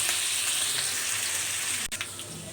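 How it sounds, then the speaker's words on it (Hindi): Garlic and ginger sautéing in hot oil for a home-style dahi gosht curry, a steady close sizzle with a brief stir or scrape near the end. "लहसुन अदरक को हम अच्छे तरीके से सौते कर लेंगे"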